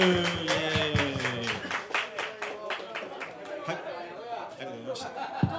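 Hands clapping at the close of a segment on a Japanese web TV show: crisp, evenly spaced claps in a steady rhythm, starting under overlapping talk and light chuckling, then continuing more on their own.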